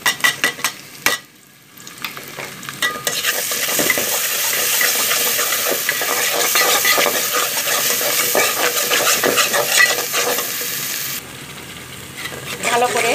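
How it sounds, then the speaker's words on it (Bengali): Onion reddened in oil sizzles and fries loudly as salt, ginger-garlic paste, coriander powder, cumin paste and turmeric are stirred in, with a spatula scraping and clinking against the pan in a steady busy rhythm; no talk. "ভালো করে কষিয়ে নিলাম।"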